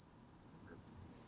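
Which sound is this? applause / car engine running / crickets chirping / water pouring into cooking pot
crickets chirping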